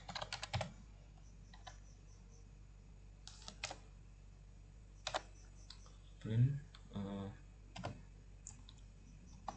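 Code is typed on a computer keyboard in short bursts of soft, close key clicks with pauses between them, and a person's voice is heard briefly.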